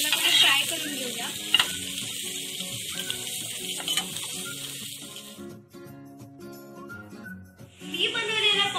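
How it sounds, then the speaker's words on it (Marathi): Pomfret fish fries in oil in a pan with a loud, close, continuous sizzle and crackle that briefly drops away before flaring up again at the end, with a voice and background sounds over it. "पॉपलेट फ्राय करते."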